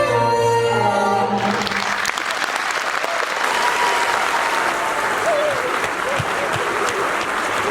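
An audience applauds warmly after a children's class performance at a preschool event, as a sung melody with music cuts off in the first couple of seconds and gives way to dense, steady clapping that continues throughout.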